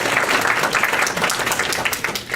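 Audience applause at a school district community forum in Hempstead Village, steady dense clapping from a crowd filling the whole short stretch at even loudness.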